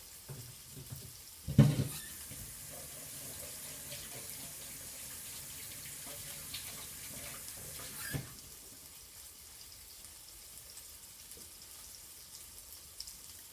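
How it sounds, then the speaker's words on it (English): A kitchen tap runs quietly into a sink while hands are washed free of raw sausage, with a faint steady water hiss and a couple of louder splashes and clunks early and midway. "I'm going to go ahead and wash my hands and get this sausage off of my hands"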